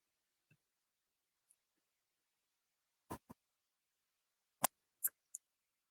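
Scissors snip paper card sentiments in a quiet room: a handful of sharp, close cuts in small clusters, separated by silence.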